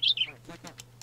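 An ostrich in modded Minecraft gives a couple of quick, bright chirping calls right at the start, followed by a faint voice talking.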